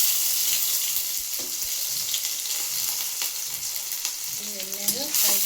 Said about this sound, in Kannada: ಎಣ್ಣೆಗೆ ಫ್ರೈ ಮಾಡಿ.